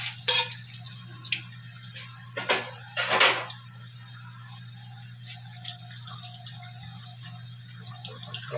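Tap water runs into a kitchen sink while noodles are rinsed of starch, a steady wash with a couple of louder splashing bursts early on and softer trickling afterward, close and alone.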